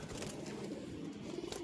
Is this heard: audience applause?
no